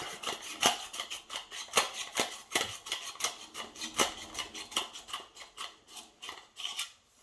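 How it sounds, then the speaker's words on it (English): Crisp, rhythmic snips of sharp scissors slicing through satin fabric, a steady series of close cuts with brief swishing rasps between them. "gonna make sure our scissors are nice and sharp"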